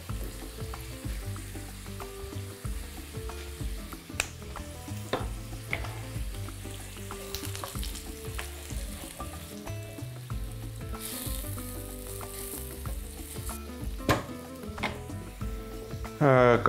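Potato pieces fry in a pan of hot oil before going into an oven dish for a fish casserole, giving a steady close sizzle with occasional stirring scrapes under background music.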